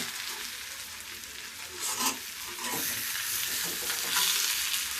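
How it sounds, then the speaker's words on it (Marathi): Eggplant pieces are stir-fried in oil on a low gas flame, a continuous bright sizzle with periodic stirring scrapes and swells as the pieces are turned, no talking. "हो, तेला तसं परतून घ्यायचं छानपैकी एक एक दोन दोन सेकंदाने परतायचं"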